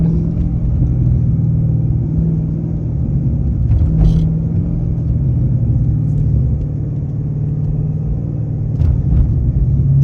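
A Hellcat car engine rumbles steadily in sport mode while driving through city streets, a loud, close, continuous low drone with slight swells and no talking.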